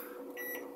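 Microwave oven humming as it starts to heat an egg dish under a plate, a faint steady drone with a soft tonal whine, brief and alone.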